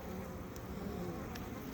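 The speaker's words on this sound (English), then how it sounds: "That is a bee who does not belong here, who is getting the bee Jesus stung out of her right now." Honey bees buzz steadily at a hive entrance while a robber bee is stung by the colony, a dense, even drone close to the microphone with no pauses and no talking.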